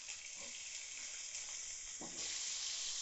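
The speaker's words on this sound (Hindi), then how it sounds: "अब इसमें से हम जो आधी प्याज है ये बघार के टाइम डालेंगे" Half of a chopped, soaked onion sizzles in hot tempering oil for kala chana chaat, a steady broadband frying hiss with a couple of soft stirring scrapes, brightening near the end.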